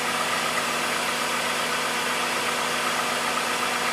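A 2001 PT Cruiser engine idles after an oil change, a steady, even mechanical hum with a faint rhythmic pulse, loud and close, with no voices over it.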